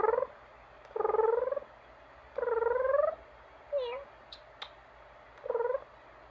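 A cat gives a series of drawn-out, wavering meows, about five separate calls spaced a second or so apart, close and clear over a low steady background hum.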